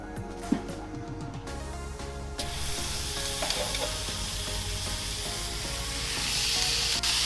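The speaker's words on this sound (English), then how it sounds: "we're going to put these on season side down and sear them for 2 minutes and then turn them" Honey garlic pork steaks go seasoned side down onto a hot Weber Baby Q grill, and a loud, close, steady sizzle rises and holds after a few soft thuds and scrapes.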